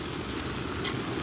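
Chicken meat hits a hot pan at a street food stall, giving a steady, fairly quiet hiss and sizzle throughout the short moment with no voices.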